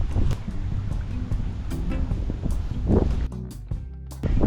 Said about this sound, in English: this beautiful trade wind breeze coming through